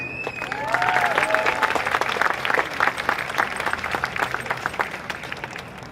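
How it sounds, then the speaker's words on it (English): Crowd applause and scattered cheering at a UCSD Xicanx/Latinx graduation ceremony, rising after a moment and continuing as dense clapping from a large audience, with occasional whoops. "Let's give it a round of applause."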